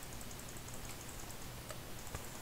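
Fast, light mouse clicks spammed during a Minecraft match, a quiet rapid patter of small ticks over faint background hiss.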